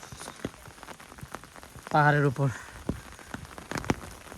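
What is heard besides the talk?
light drizzle rain in a jungle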